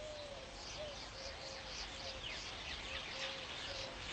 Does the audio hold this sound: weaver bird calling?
yes